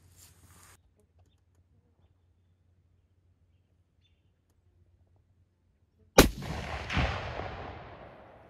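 A single loud rifle shot cracks out at a black bear during a British Columbia hunt, breaking near silence and followed by a long rolling echo that decays over a couple of seconds.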